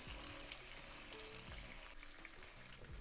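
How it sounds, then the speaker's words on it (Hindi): Eggplant pieces frying in a pan for a Baghare Baingan curry, a steady close sizzle with faint stirring and scraping throughout and no talking. "यहाँ पर आप देख सकते हैं कि जैसे जैसे हम इन्हें भून रहे हैं तो कितना प्यारा सा इसका कलर चेंज हो रहा है।"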